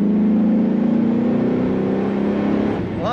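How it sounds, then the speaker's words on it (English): 2006 Chevrolet SSR convertible pickup accelerating hard, its aggressive exhaust note rising in a loud, continuous drone from inside the truck before easing off near the end. "Nice aggressive exhaust note"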